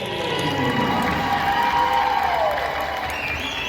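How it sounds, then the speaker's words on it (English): A gym crowd at a high school girls' volleyball senior night breaks into sustained applause and cheering, a steady wash of clapping and voices that holds at full strength without a break. "Let's give a big round of applause to our graduating"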